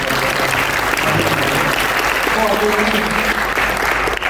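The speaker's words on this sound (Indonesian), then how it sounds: "Lalu kasih tepuk tangan dong buat pasangan" A youth church audience in Solo claps loudly and continuously for a couple, a dense unbroken wash of applause with a faint background music bed beneath.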